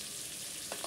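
Potato and onion frying in a pan for a Bengali fish curry, a steady soft sizzle with a couple of brief crackles near the end.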